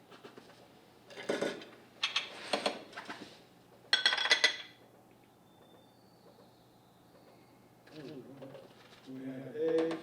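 Utensil scraping around a baked egg in a ceramic ramekin, with several clinks and scrapes against the dish, close and moderately loud, alongside a person talking.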